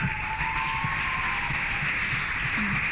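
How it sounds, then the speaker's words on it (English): Steady clapping from an audience for winners at an awards ceremony carries on for a few seconds under a constant background hum, with a faint voice briefly near the end. "Please give a hearty clap to all of our winners tonight."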